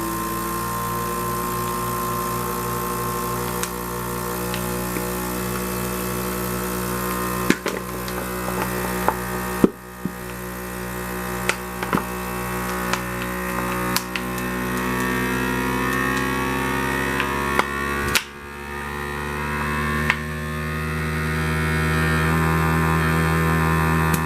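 Fresko V8 vacuum sealer running on its dry setting, a steady loud motor hum with a rising tone and intermittent clicks, continuous for the whole stretch with no voices.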